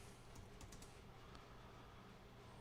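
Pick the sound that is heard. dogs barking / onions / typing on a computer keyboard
typing on a computer keyboard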